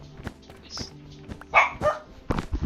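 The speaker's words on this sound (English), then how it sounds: "He's barking at the kitty." A dog barks at a cat in a series of short, sharp, separate yips and barks, moderately close, with a couple of louder bursts toward the end.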